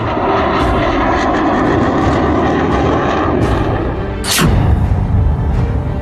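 A fighter jet roars low over the Purvanchal Expressway runway near Kurebhar village, Sultanpur, giving a loud, sustained engine rumble with a sudden swelling blast toward the end.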